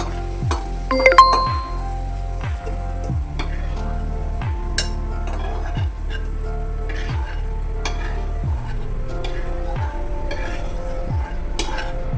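Onions frying for dum biryani in a pan, a loud steady sizzle with a utensil scraping the pan in a regular stirring rhythm about once a second, plus a few metallic clinks near the start.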